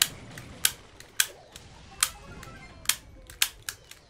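Sharp gunshots from the video game Brawl Stars crack out singly and in quick pairs, spaced irregularly at fairly low volume with no talk over them.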